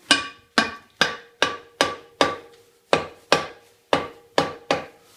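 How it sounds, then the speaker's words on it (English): Hammer tapping a cast exhaust manifold down onto tight studs on a 1940/41 John Deere B tractor: about eleven sharp, ringing metallic knocks at a steady rhythm, close and loud with no talk. "Just give it a bit tap down."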